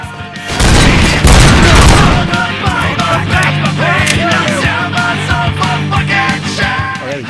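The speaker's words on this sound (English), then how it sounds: "There's the machine gun." Heavy automatic weapon fire in the RoboCop: Rogue City video game, a loud burst of booming, rattling shots opening the clip, then continuing rapid gunfire with crashes and game music underneath.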